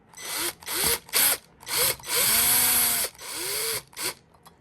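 Cordless power drill set to low torque driving screws into a Schlage deadbolt, several short whirring bursts with rising and falling motor pitch and one longer run, close and loud.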